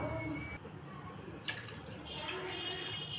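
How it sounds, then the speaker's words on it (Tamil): About a quarter litre of water pours steadily into a pot with a soft splashing rush and a few drips, close by and continuous. "ஒரு 2 கப் அளவு நம்ம தண்ணி சேர்த்துக்கலாம்"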